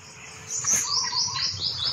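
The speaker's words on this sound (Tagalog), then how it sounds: "Ibon, parang sigaw yun." Bird calls ring out in a quick series of high, sweeping chirps, fairly close, over a soft background hum.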